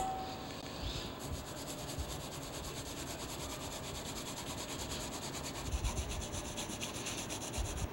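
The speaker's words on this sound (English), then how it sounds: "we're going to grate this very finely to get the juice" Fruit being rubbed finely on a hand grater for juice, a continuous scratchy rasping texture at low volume, steady throughout with slightly firmer strokes near the end.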